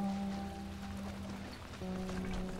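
Rain falling in the video game The Last of Us, a steady soft patter and wash of drops on surfaces that holds at a constant low level throughout, with no talk.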